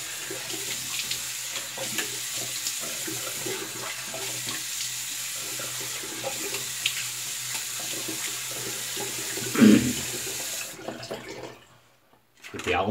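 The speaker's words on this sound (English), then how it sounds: "Rinse our brush." A shaving brush is rinsed under a running bathroom tap, with a steady close hiss of flowing water and brief splashing that cuts off as the tap shuts, with no talking.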